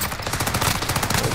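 Rapid automatic gunfire from Call of Duty: Modern Warfare hammers out in a loud, continuous burst of closely spaced shots with no pauses.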